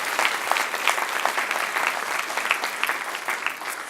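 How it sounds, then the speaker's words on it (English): Sustained applause fills a room at a school breakfast honouring valedictorians and salutatorians, dense and even clapping from a sizeable crowd that tapers slightly toward the end. "A round of applause for all,"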